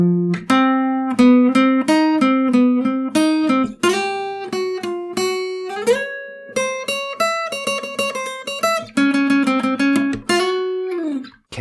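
A cello part from a chaotic remix in the video game Splatoon 3, playing busy, jumpy phrases with quick note changes and sliding pitches over a dense electronic backing, loud and continuous throughout.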